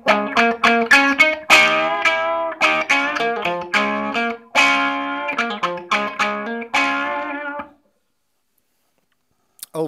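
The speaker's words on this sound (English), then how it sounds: "so you could get that into distortion" Electric guitar played through a Mu-tron III effects pedal pushed into distortion, a run of plucked, overdriven notes and chords with a processed, swirling edge, ringing out and then stopping into silence.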